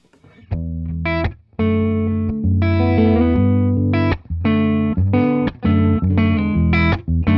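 An electric guitar on its neck pickup plays dry through a Tone King Sky King amp, a series of bright strummed chords and short riffs with clean, abrupt stops, close and loud with no added effects.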